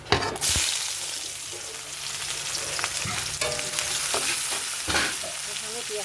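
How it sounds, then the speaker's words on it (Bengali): Onion dropped into hot oil already tempered with cumin seeds and bay leaf, giving a sudden loud sizzle that settles into steady frying with stirring and clinks of a utensil, no voices. "তেল গরম হয়ে গেছে, জিরা তেজপাতা ফোড়ন দিয়ে পেঁয়াজটা"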